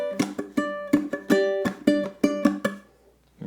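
Ukulele playing measure 11 of a Motown tune, plucked double stops in a quick, bouncy rhythm of about a dozen close, clean notes ringing together before fading out.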